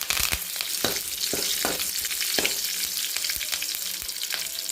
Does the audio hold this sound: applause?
no